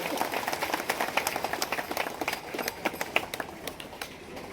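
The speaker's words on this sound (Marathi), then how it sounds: "त्यांना एकदा जोरदार टाळ्या वाजवून त्यांचाही आपण या ठिकाणी सन्मान करूया" Crowd of villagers clapping loudly to honour former soldiers at a public gathering with a guardian minister; dense, steady applause with sharp individual claps throughout.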